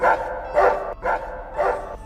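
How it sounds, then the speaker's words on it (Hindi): Dogs barking outside at night in a village, four loud repeated barks in a steady rhythm, close by and alone with no talk. "बाहर कुछ कुत्ते भौंक रहे थे।"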